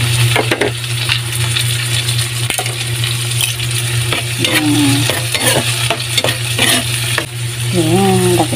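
Tomatoes added to onions sizzling in a pan while being stirred, with a steady loud frying hiss, a low hum and repeated metallic scrapes and clinks of the utensil against the pan.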